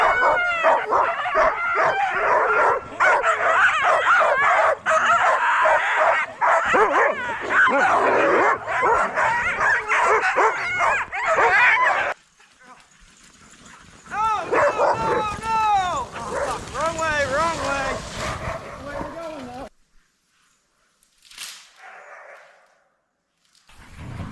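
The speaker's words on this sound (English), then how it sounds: "So let's hook up the dog team and go for a quick run" A sled dog team barks and yips excitedly before a winter run, with rapid overlapping yelps and whines close by for about twelve seconds, then scattered howls and cries that taper off into near silence.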